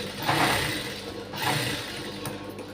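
A sewing machine runs steadily while stitching seams on a blouse, a close whirring hum that swells and dips in short bursts with no voices over it.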